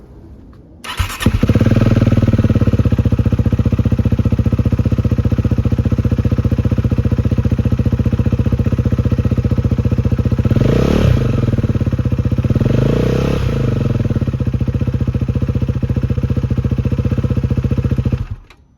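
A Husqvarna Svartpilen 401 motorcycle engine with a LeoVince LV10 titanium exhaust catches and starts, then idles loudly and steadily with a raspy exhaust note, a couple of brief blips midway, before cutting off.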